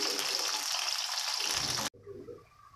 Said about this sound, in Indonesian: Digoreng lagi guys